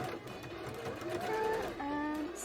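Sewing machine stitching wire into a jellyfish bra, a close, steady mechanical whir with rising and falling motor pitch, running continuously throughout.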